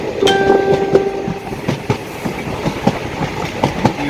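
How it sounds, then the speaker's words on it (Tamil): The Tiruchirappalli–Rameswaram Express pulls into Pudukkottai railway station, with a steady clickety-clack of wheels over rail joints, a brief horn tone near the start and continuous close rumble of the passing coaches. "திருச்சிராப்பள்ளி டு ராமேஸ்வரம் எக்ஸ்பிரஸ் புதுக்கோட்டை ரயில் நிலையத்துக்கு வந்தடைந்தது"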